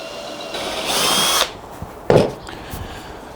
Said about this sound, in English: I'm going to start with a little pilot hole just to get everything going in the right direction.